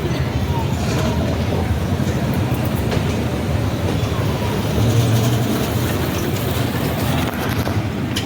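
A toy train ride in the Abhiruchi shopping mall gives a steady rolling rumble and clatter throughout, close and continuous, with faint voices in the background.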